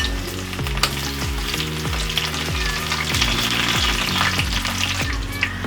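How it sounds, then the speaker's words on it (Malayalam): Chopped shallots and mustard seeds fry in hot oil, giving a steady close sizzle with repeated rhythmic clinks and scrapes of a spoon stirring in the pan. "ചുവന്നുള്ളി അരിഞ്ഞിട്ട് കൊടുത്തിട്ടുണ്ട്."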